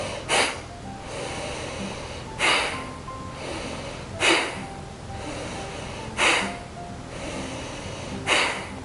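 Kapalbhati yoga breathing: five forceful, sharp nasal exhales spaced about two seconds apart, close and clear over a quiet room, with no talking.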